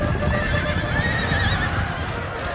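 Scots Greys cavalry horses neigh loudly during a charge in the game Napoleon Total War, whinnies rising and falling over a thick rumble of hooves and battle noise.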